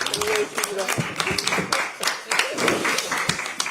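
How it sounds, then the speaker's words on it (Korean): Clapping at a party leadership meeting, scattered hand claps in an uneven rhythm rising and falling under several voices talking at once. "큰 박수 부탁드립니다."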